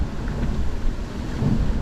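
Rain beats down during a squall at sea aboard a sailing boat in the South Pacific, a dense, steady roar of wind and water with low rumbling, loud and close, with no voices.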